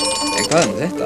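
A telephone rings in a comic cartoon scene, a short burst of ringing heard under a man's spoken question.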